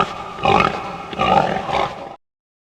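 A pig makes three rough grunts in quick succession, close and fairly loud, before the sound cuts off.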